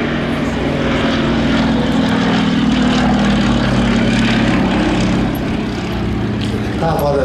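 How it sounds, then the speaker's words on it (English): A vintage aircraft with a Pegasus radial engine runs at the Flying Legends airshow, a loud, steady droning roar with a low throbbing tone that holds throughout, with some voices faintly underneath. "Now, I can't think of where else you'll hear a Pegasus engine running in the world."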